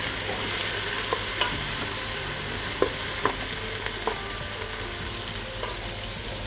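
Onions frying and sizzling in a pan with whole spices for a chicken drumstick curry, a steady loud hiss broken by the scrape and clack of a spoon stirring.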